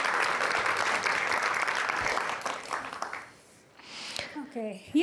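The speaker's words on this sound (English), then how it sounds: "please join me in giving a round of applause" An audience at a women in cybersecurity event applauds the facilities and AV team, a full burst of clapping that fades after about three seconds before a voice begins speaking.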